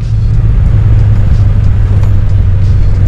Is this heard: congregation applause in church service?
no